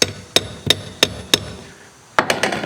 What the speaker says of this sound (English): let's put the flat bar on there like that, and then I'll just tap on the flat bar